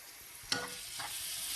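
Onions sizzle steadily as they fry and caramelize in a pan. A constant crackling hiss is broken by a couple of brief stirring scrapes, close and fairly loud, with no one talking.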